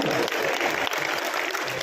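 Audience clapping at a Chhattisgarhi comedy poetry show, dense continuous applause close and loud with a faint crowd murmur underneath.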